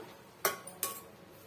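Two sharp metallic clinks close together as a pot lid is lifted while carrots cook, crisp and near in a quiet kitchen.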